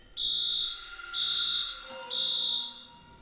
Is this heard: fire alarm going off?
yes